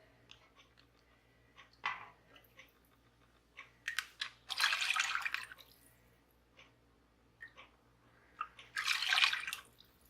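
Homemade turkey stock is poured into a bag, giving intermittent drips and short splashes followed by two longer liquid pours, close and fairly quiet, with no voices.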